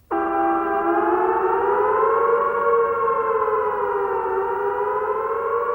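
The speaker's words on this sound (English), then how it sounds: "the following warning siren will sound in your homes" A loud, steady wailing civil defence warning siren holds one sustained tone, drifting slightly in pitch, with no other sounds.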